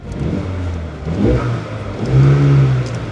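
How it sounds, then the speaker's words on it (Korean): A Mercedes-Benz GLB AMG engine revs up twice in Sport Plus mode, rising to a deep throaty exhaust growl and then settling back, heard close with no talking. "스포츠 플러스 모드로 하면 배기음이 바뀝니다"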